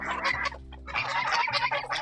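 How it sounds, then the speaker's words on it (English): Geese on a homestead honk loudly and close by in a rapid, overlapping series of harsh calls with only brief pauses. "crazy honking geese that are literally following me around"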